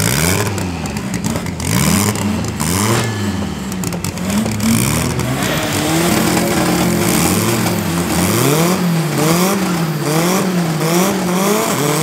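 A BMW X3 and a naturally aspirated rotary race car on a drag strip, with engines roaring and revving loud and close, pitch sweeping up and down through gear changes, and a steady rumble for the whole stretch.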